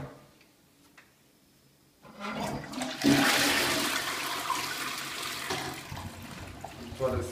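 A clean toilet flushes nearby in a rental property, starting quietly with a faint tick and then a loud rushing swirl of water that slowly fades into trickling, while a voice speaks faintly.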